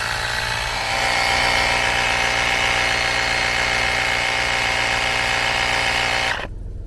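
A portable air compressor inflates a car tire with a loud, steady buzzing drone at close range, running continuously before cutting off abruptly near the end.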